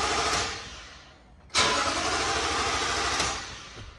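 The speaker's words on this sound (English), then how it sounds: "and I try to restart the vehicle." A 2021 Toyota Tundra fitted with an IGLA immobiliser and Compustar T11 system cranks in a restart attempt: a steady engine drone, a brief dip, then a sharp loud surge as the starter catches and the noise holds close and continuous.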